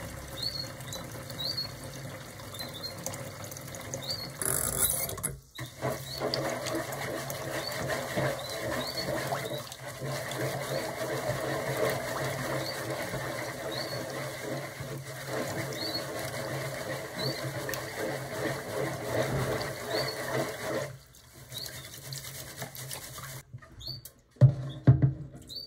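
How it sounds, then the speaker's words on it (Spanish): Rice being washed by hand in a bowl of water, with soft continuous swishing and light patter up close, a brief pause partway and a louder splash near the end, no one speaking. "Lavar el arroz 4 veces para quitarle un poco el almidón hasta que el agua se vea más clara"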